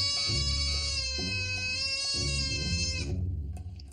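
A goat at an Alaska veterinary visit lets out one long, loud, wavering bleat lasting about three seconds, close up, before it trails off.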